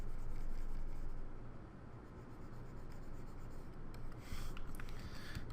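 A stylus steadily rubs and scratches across a digital drawing tablet while erasing, a soft continuous scraping with slight swells and no talking.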